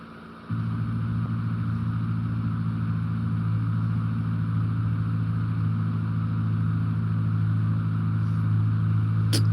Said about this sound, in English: these cars sound like they on the highway